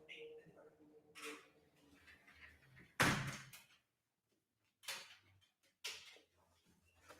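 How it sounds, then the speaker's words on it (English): A door being closed indoors, with a single loud thud midway, preceded and followed by softer handling knocks and shuffling, close by in a quiet room. "I need to close that door."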